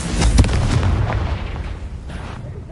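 A Confringo fire spell blasts in Hogwarts Legacy, a loud booming explosion up front that tails off into a rumbling, crackling decay with a fainter second burst near the end, no voices.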